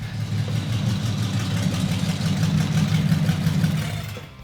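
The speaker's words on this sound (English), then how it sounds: "That's the reason I chose this engine from the start, because of the sound." A 1954 Packard custom car's engine idles with a loud, close, deep burbling rumble, holding steady for several seconds before easing off at the end.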